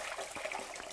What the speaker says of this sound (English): So run it under the water.